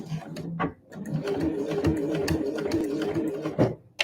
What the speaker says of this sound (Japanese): では、返し縫い。